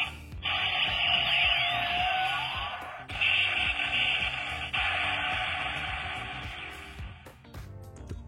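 The DX Earth Garon toy fires its laser sound effect, a loud electronic whine with sweeping tones that runs for several seconds, breaks off, resumes and then gives way to a few clicks.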